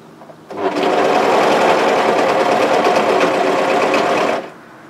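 Sewing machine stitching sweatshirt seams, running in one steady, continuous burst of close, loud motor whir and needle clatter for about four seconds before stopping.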